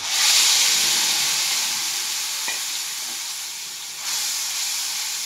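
Homemade spice paste fries in a pan with drumsticks and small fish, making a loud, close, hissing sizzle that eases slightly. One short scrape of stirring is heard before the sizzle swells again toward the end.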